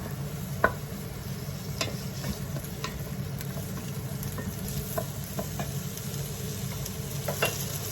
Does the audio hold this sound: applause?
no